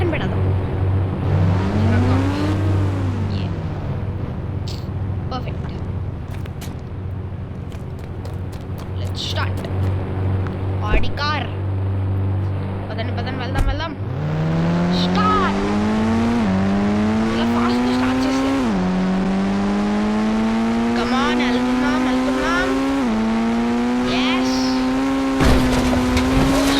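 Audi car racing in the video game Indian Bike Driving 3D, an engine whine climbing through repeated gear shifts with tire squeals, loud and continuous, while a person talks over the early part.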